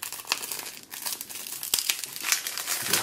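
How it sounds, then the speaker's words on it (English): Plastic screen layer peeled off a Samsung Galaxy Z Fold2, a close crinkling and crackling with sharp ticks and small tearing snaps, continuous for about three seconds. "I just peeled the screen just like that"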